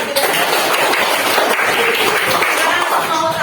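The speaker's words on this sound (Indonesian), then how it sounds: "Tepuk tangan untuk kelas ini" A school class applauds at the close of a positive-culture classroom activity, dense clapping steady across the clip with some voices mixed in.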